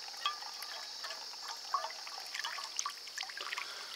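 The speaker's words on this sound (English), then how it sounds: "I'm pouring around this medium up at the top just to make sure I get that initial filtration of particulates through this plant matter" Water trickles steadily through a three-tier filter of plant matter and charcoal, a soft continuous dribble with faint splashy ticks and drips, close and fairly quiet with no voices.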